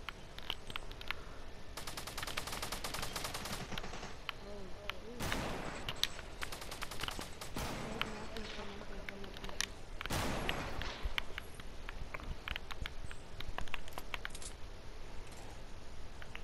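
Fortnite gunfire in rapid bursts of repeated shots, some sustained like automatic fire and a few heavy blasts, sounding moderately distant within game ambience, with occasional faint speech.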